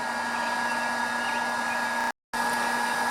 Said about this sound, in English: So I then switched to a heat gun.